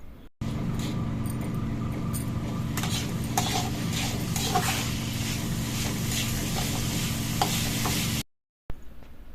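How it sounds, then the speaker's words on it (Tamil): Pepper, cumin, fennel and sliced coconut sauté in a pan for an ennai kathirikai masala, a continuous close sizzle with utensil scrapes and light metal clinks, stopping abruptly near the end. "இப்போ எல்லாத்தையும் சேர்த்து நல்லா வதக்கிட்டு ஒரு பிளேட்டுக்கு மாற்றிடலாம்"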